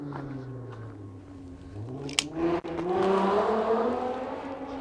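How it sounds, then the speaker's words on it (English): Cars pass along a nearby road, their engine noise swelling and fading with one loud passing sweep near the middle and a steady roar building afterward. "Don't mind the noisy cars"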